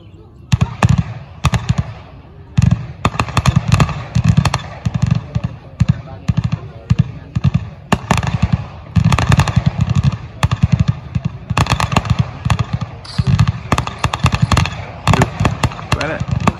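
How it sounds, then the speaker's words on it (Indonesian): Rapid bursts of video game gunfire crackle continuously, loud and close, with dense rattling volleys and occasional single shots. "suara tembakan"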